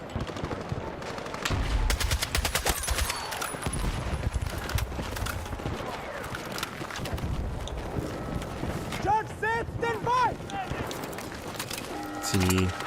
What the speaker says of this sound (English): A sniper shot near me.